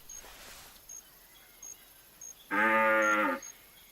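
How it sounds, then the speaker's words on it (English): Single drawn-out moo from a cow in theHunter Classic, loud and fairly close, heard after a stretch of quiet outdoor ambience with faint repeating chirps. "Oh, sounds like a cow,"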